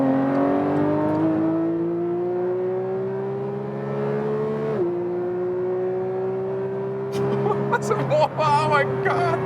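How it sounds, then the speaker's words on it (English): A Porsche 911 GT3 Touring of the 992 generation accelerates hard. Its engine note climbs steadily and loudly, dips briefly at a gear change, then keeps pulling, with rougher noisy bursts near the end. "Oh, they're getting off, so I can speed it up now again"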